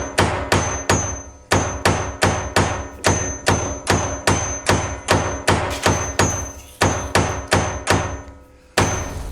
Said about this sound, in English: I'm trying to fix this button with a hammer, a paper hammer